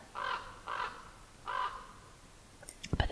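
A raven caws three times in harsh, evenly spaced calls, followed by a few faint clicks and taps at the end, with no voices.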